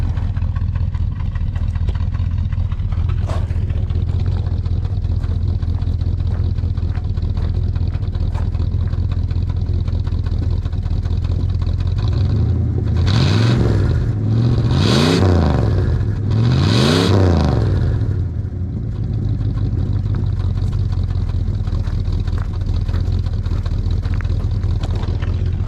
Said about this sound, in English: I'll give the 318 a little bit of RPM and see how it sounds